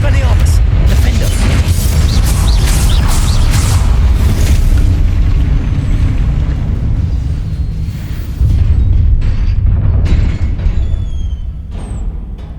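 Spells are cast in the Hogwarts Legacy video game, including the Confringo spell. Heavy booming blasts and rumbling explosions go on throughout, with crackling magical bursts and speech over the din.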